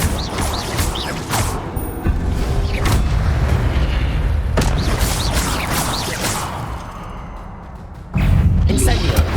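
Hogwarts Legacy fire spell being cast repeatedly: whooshing bursts and booming impacts recur over a rumbling game soundscape, with a louder surge near the end, while a voice speaks over it.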